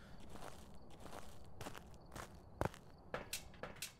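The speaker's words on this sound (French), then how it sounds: "Vous l'entendez au bruit de pas." Ghost footsteps in the horror game Phasmophobia, a Moroi on the Tanglewood map: a steady run of soft, separate steps over a low background hum, with a couple of sharper knocks near the end and no talk.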